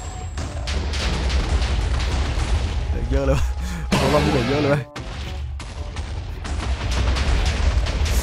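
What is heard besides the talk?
TNT explosions in the video game Minecraft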